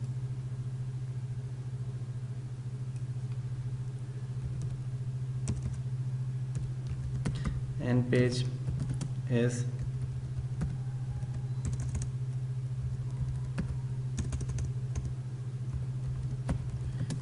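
Typing on a computer keyboard while working in MS Word, steady soft key clicks over a constant low electrical hum, with a brief spoken word or two in the middle.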